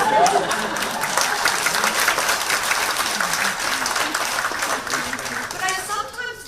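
An audience at a talk with the author of The Vagina Monologues bursts into sustained, dense applause that stays loud and even for several seconds, then tapers off as a voice begins.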